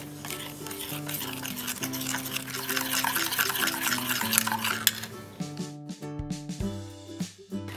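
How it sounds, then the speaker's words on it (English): Yeast, sugar and salt stirred into warm water in a bowl for croissant dough: a continuous soft swishing and light scraping under steady background music, close and fairly quiet, ending in a few small knocks. "Then we're going to stir this together and let it sit for about 5 to 10 minutes."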